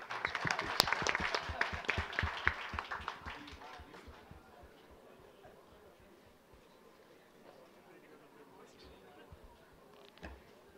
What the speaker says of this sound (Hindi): जी, तालियां तो बजाओ यार.